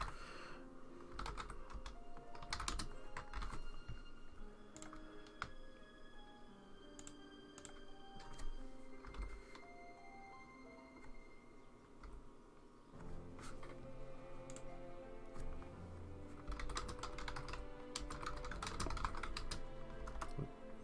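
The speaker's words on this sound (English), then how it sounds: "Very sorry for everyone who can hear my keyboard." Steady typing on a computer keyboard during a dance event livestream, rapid clattering keystrokes in bursts, fairly close, with music-like tones underneath and no speech.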